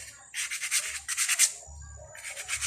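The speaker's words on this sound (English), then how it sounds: "so I'm sanding it out like that" Sanding the sharp edge of a disc brake pad, heard as short rasping bursts in three rhythmic passes separated by brief pauses, close and fairly loud with no talk.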